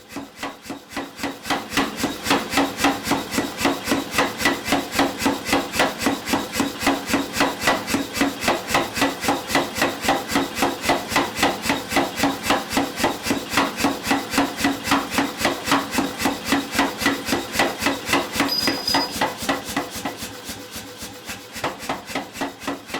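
Square steel stock is hammered into an octagon and then roughly rounded in the flat section of forming dies. Rapid, evenly spaced blows repeat nonstop at close range for about twenty seconds before easing slightly.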